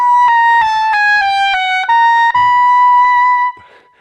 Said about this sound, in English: which when you play it on the oboe, it sounds like this.